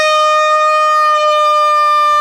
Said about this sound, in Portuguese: Quando acabou a 7ª volta, eles começaram a tocar todos os trombones.